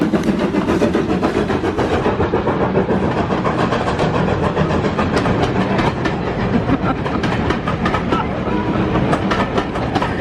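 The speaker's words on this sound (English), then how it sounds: "Here comes the train." A train rolls past nearby, a loud continuous rumble with rhythmic clacking of wheels over the rails throughout.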